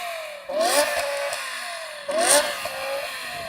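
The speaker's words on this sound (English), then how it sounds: "Now let's quickly compare the sound of these cars' engines." A BMW M5 engine revs up sharply twice, each rising whine climbing and falling back, loud and close with no voices.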